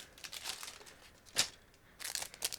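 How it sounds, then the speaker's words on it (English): Crinkling and rustling of a sealed plastic bag holding parts of a Miniart 1/24 German traffic tractor model kit, close and quiet, in irregular bursts with sharp crackles. "I'm trying to remove everything from this sealed plastic bag."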